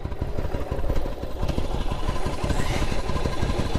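A Yamaha Virago 1100cc motorcycle engine runs close by, a rapid, even mechanical clatter with a continuous low rumble throughout.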